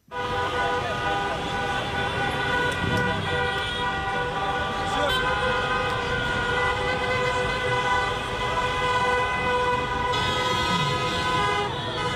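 Sustained car horn blaring almost continuously at close range, with street noise underneath and a few other horns layered in, as fans celebrate Algeria's football title in the street.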